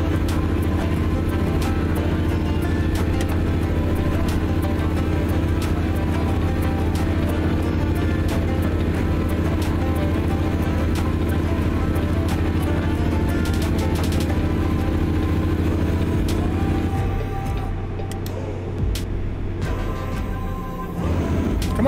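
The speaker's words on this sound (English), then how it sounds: "This truck is a lot louder than the Freightliner." A heavy truck engine drones steadily while driving in American Truck Simulator, a loud constant low rumble that eases and shifts near the end, with no talking.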